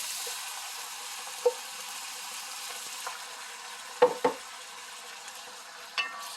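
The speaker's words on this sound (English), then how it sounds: "I'm just going to add in a can of tomatoes" Canned diced tomatoes going into a simmering soup pot, heard as a faint steady sizzle with a few soft stirring knocks and clinks scattered through, no talking.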